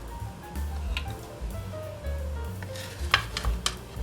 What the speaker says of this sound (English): start to fry them in the frying pan